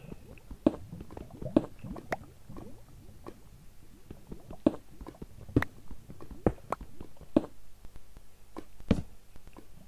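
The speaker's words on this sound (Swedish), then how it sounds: "lite vatten någonstans." Water drips somewhere in a Minecraft world: sharp, irregular plops and squishy taps, some louder and closer, repeat every second or so over a quiet low background.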